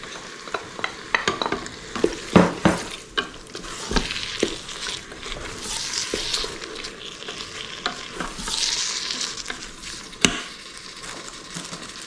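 Tomatoes go into a hot pan for Napoli-style sauce and sizzle steadily for about twelve seconds, broken by sharp spoon scrapes and knocks against the pan, with no talking.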